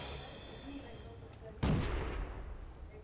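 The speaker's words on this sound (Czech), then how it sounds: "Tam je přestřelka za kopcem, s tím Stuartem" A single sharp tank cannon blast in the World of Tanks video game, an exchange of fire with a Stuart tank beyond a hill, rings out loudly after quiet engine rumble and trails off in a long decaying echo.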